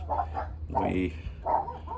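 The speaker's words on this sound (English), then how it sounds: "We have the guard dogs right here" Guard dogs barking in short bursts close by, several rapid woofs and yips in two clusters over about two seconds.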